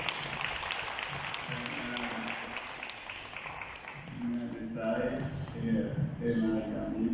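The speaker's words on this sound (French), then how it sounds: "j'aimerais également qu'on les applaudisse" An exhibition audience claps for two photographers in a steady, moderate round of applause, with a voice speaking over it and a pitched sound growing louder in the second half.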